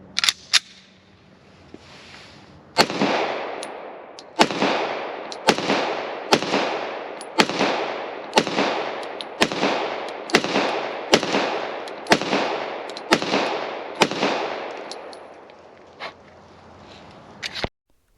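An HK Mark 23 pistol fired at a steady pace, about fourteen loud sharp shots, each followed by a long ringing decay, with a few quicker clicks at the start and end and no talking.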